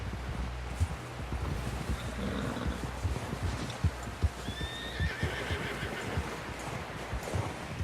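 Horse in Red Dead Redemption 2 whinnying twice over a steady run of clip-clopping hooves, with wind noise behind and no talk.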